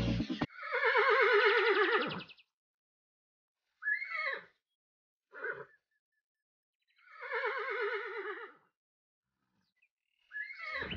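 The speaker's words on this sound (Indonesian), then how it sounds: "kalau ini kuda poni" A white pony neighs in two long whinnies separated by a few short snorts and calls, close and clear in otherwise quiet surroundings.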